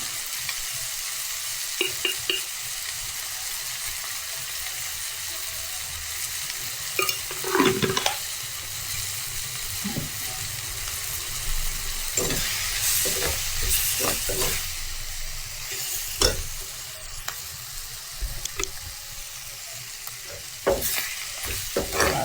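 Clams with chili powder stir-fry in a pan, giving a steady sizzle broken by repeated scraping and clattering stirs. No voices are heard.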